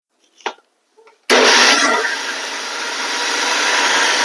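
A kitchen mixer grinder blends soaked rice and poha into dosa batter. A couple of faint clicks come first, then a sudden loud whirring roar that settles into a steady, slightly rising grind.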